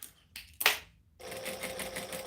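A domestic sewing machine stitching a Denver Mini bag, first with a couple of short clunks, then a steady, fast, whirring run of stitches that stays moderately loud to the end, with no talk.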